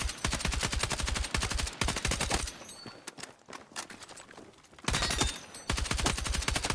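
Rapid carbine fire in the video game Battlefield 6 comes in two loud close bursts of dense automatic shots, split by a quieter stretch of game ambience.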